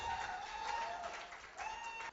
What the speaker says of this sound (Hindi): सर तालियां